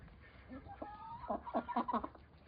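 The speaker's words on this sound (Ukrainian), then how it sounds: "Півні вже молоді он розпівалися." Young roosters in a small farmyard flock crow faintly and hoarsely at a distance, several short, broken calls in a row over a steady outdoor background.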